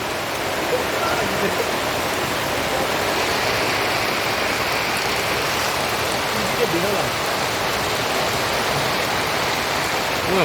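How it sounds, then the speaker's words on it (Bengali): Heavy rain pours in a dense, unbroken roar on a waterlogged street in Nadia after falling since morning, loud and steady throughout. "এখনো হয়েই যাচ্ছে বৃষ্টি"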